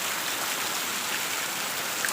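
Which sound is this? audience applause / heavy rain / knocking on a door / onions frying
heavy rain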